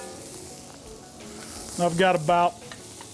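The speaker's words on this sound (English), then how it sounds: "Those onions are kicking off the flavor. You can hear them sizzling." Onions and garlic fry in a pan at deer camp, sizzling steadily with stirring noises close by while someone talks over them.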